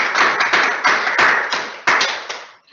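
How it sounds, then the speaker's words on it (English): A short clapping sound effect is played at the close of an online seminar on SME insolvency reforms: about eight sharp, close claps in an uneven rhythm, heard alone and ending abruptly. "We'll play a clapping sound from the Raucous Bunch"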